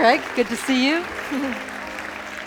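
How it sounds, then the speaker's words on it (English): A congregation claps for accordionist Greg Luce at a Christmas Eve church service, a steady wash of applause running through the whole moment while someone speaks briefly over it. "Let's give a round of applause for Greg Luce to start."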